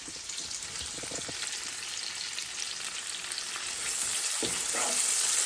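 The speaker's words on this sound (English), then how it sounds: "And I'm going to add the onion." Onion hitting a hot frying pan for ratatouille, a continuous loud sizzle that swells brighter near the end, with a few soft stirring knocks, no speech.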